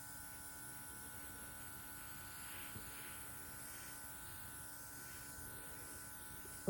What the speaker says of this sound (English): I love the Cookie Countess airbrush machine as well as the airbrush colors.